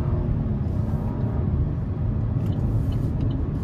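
A 2024 Buick Encore GX ST with a 1.3-liter turbo and CVT, driven in low gear, heard from inside the cabin as a continuous low engine and road drone that stays loud and even, with no speech.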